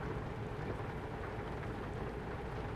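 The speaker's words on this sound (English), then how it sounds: "I have got my lights on because it's raining so hard" Heavy rain pours steadily in a truck driving game, a dense, even wash of drumming noise with no pauses or speech.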